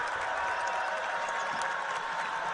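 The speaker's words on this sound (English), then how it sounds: "Coach Kim Barnes-Arico getting up and clapping her hands and the Wolverine fans follow her lead" Michigan Wolverine fans clap steadily at a women's basketball game, a dense, even wash of applause from a crowd in an arena.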